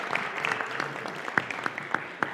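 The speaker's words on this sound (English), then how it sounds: "Please give her a round of applause." Audience at a lecture clapping briefly, a moderate burst of close hand claps with a few louder individual claps standing out, alone without talk.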